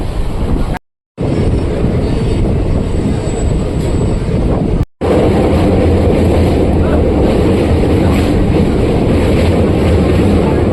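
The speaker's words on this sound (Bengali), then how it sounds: "এত হাওয়া দিচ্ছে, পুরো মানে বডি ঠেলে দিচ্ছে" Strong wind roars steadily past an open window of a moving Digha to Santragachi special train, loud and buffeting, broken by two brief dropouts, with rumbling carriage noise underneath.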